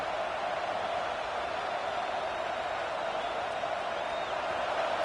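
Steady roar of a large stadium crowd at a college football game during a defensive stand in the red zone, sustained and loud throughout with no distinct breaks.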